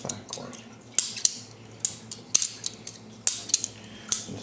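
A balisong butterfly knife flipped open and closed, giving sharp metallic clacks and clicks in irregular bursts, close and fairly loud, with no voices.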